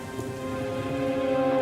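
Steady rain pours in a dense, even wash with a low rumble beneath, like a thunderstorm sound effect in an animated Dr. Seuss story, with no voices.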